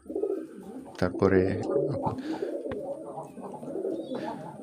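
Pigeons coo softly nearby in a few low, throaty phrases, with a person speaking briefly over the birds.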